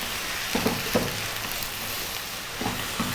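Ginger garlic paste frying in a pan for a lamb curry, a steady soft sizzle with a few brief scraping stirs at intervals.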